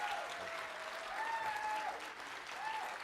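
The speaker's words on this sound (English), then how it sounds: "Let's give Congressman Beaupre a round of applause." Audience applause for Congressman Bob Beaupre at a Colorado gubernatorial energy forum, a steady wash of clapping with faint tonal voices or whistles drifting over it, moderately distant.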